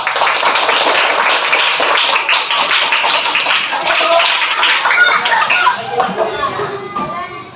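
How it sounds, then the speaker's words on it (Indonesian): Classroom of students clapping during a coding lesson, a busy burst of hand claps mixed with children's voices and chatter, loud and close, thinning out toward the end. "Tepuk tangan dulu."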